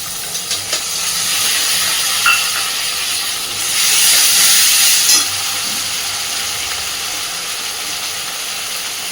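Ginger, cumin and green chilli paste sizzles steadily in a hot pan for a raw banana curry, a loud continuous hiss that swells briefly midway, with no talking.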